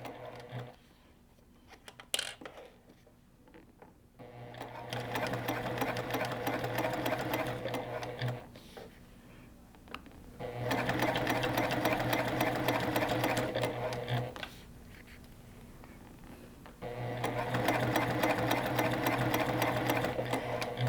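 A sewing machine stitches a zipper seam with Tex 70 thread, running in three steady whirring bursts of several seconds each, separated by pauses with soft handling noises, close by.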